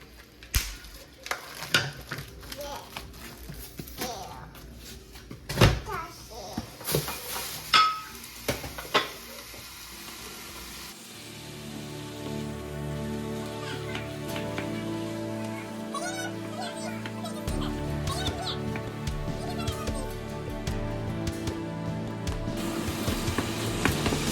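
Ground beef thickened with a cornstarch slurry cooks in a pan for tacos: a spatula clanks and scrapes against the pan in uneven strokes, then a steady sizzle carries on beneath a sustained tonal background, likely music.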